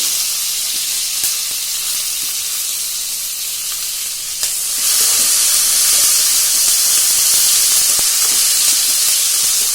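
Steady, bright sizzling of spices and curry leaves frying in hot oil for kuzhi paniyaram, growing louder and harsher about halfway through, with no voices.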